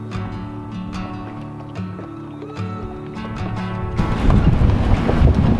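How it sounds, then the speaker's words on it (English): Strong wind buffets an anchored sailboat, a steady roar with rattling and creaking that swells louder and rougher in the last couple of seconds. "It is crazy windy."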